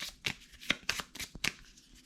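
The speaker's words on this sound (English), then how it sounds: "We got to shuffle our event cards here." Event cards for a board wargame get shuffled by hand in soft, quick riffling bursts, about five or six close-up flutters in a steady rhythm with no voices.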